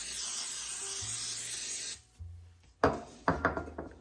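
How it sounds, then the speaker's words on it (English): Cooking spray hissing onto a baking pan for a two-ingredient cake, a steady hiss lasting about two seconds, followed by a few sharp clatters of the can and pan. "Now, I'm going to spray our pan."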